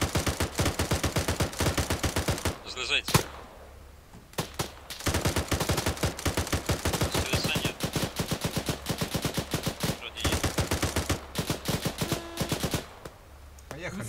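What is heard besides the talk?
gunfire in a video game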